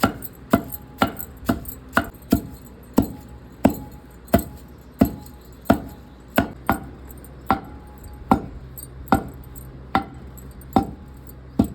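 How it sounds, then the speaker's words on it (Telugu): Curry leaves pounded in a mortar for Telangana-style garlic chili powder, a steady series of about two dozen heavy, evenly spaced thuds, close and loud with no talk. "ఇప్పుడు కరివేపాకు కూడా కొద్దిగా వేసుకొని దంచుకోవాలి"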